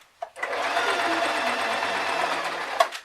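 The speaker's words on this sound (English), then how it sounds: "Now these modern sewing machines, they'll quite happily sew over a plastic zip" A modern sewing machine stitches a small lined change purse, sewing over a plastic zip in one continuous close whirring run of about two and a half seconds, with a brief tap at the start and at the end.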